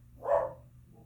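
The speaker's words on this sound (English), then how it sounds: "Sorry for her barking." A single short, muffled bark from a small dog indoors, moderately loud and heard alone over a low background hum.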